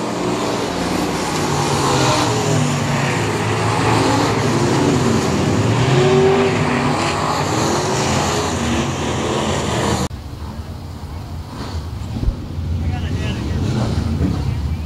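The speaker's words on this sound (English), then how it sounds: "jabs the throttle and puts the power down, and that's going to bring him to the checkered flag" IMCA stock car racing on a dirt speedway toward the checkered flag, a loud continuous engine roar with wind buffeting for about ten seconds, then dropping to a quieter, rougher engine drone afterward.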